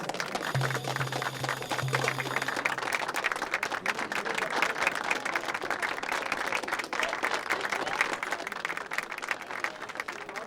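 Steady applause from a bar audience welcoming the singer to the stage, dense and continuous for several seconds, with a brief low musical tone early on.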